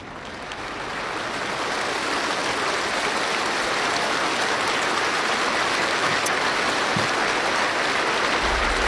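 Stadium crowd at an AFL football match between North Melbourne and Adelaide applauding veterans and serving personnel: a broad, sustained wash of clapping that swells in the first second and holds steady, sounding distant and diffuse.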